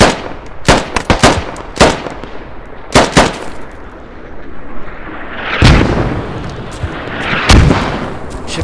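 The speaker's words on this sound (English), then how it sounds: "got rounds coming in, but it takes 20 seconds" Mortar rounds impacting in the Squad video game, heard as loud booming blasts and sharp gunfire cracks in bursts, with heavier rumbling impacts later on.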